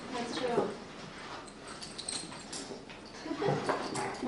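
Puppies playing and whimpering on an old 1990s camcorder recording, giving soft whines and yips in a roomy space, with people talking over them throughout.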